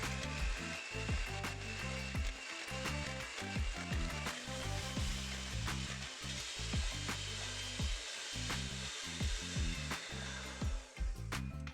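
Butter is creamed for a soursop pound cake, giving a continuous rough whirring and rubbing drone with a rhythmic scraping churn, close and steady throughout with no voices.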